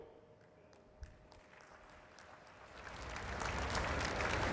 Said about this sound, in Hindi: इधर ताली बजाने में देर हो गई।